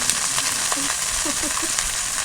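Chopped susni greens frying in a pan, a close, soft continuous sizzle with faint crackles and small stirring sounds, no talking.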